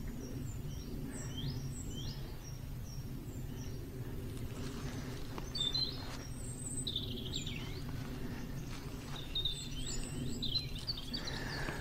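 Birds sing and chirp in a forest, with scattered short whistled calls near and far over a steady low ambient rumble and soft rustling, no voices present.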